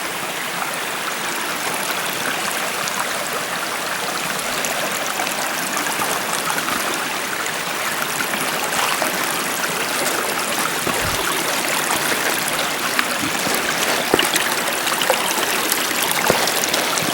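North Sylamore Creek in Arkansas flowing steadily, a continuous close rushing and gurgling of river water with no voices.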